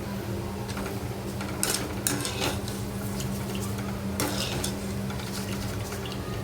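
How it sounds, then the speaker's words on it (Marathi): Curry leaves sizzle and crackle steadily in hot oil, broken by a few sharp clinks of a utensil against the pan. "तळल्याच्या नंतर त्याचा आवाज पण बघा कसा असा खळखळ असा आवाज मस्त येतो त्याचा."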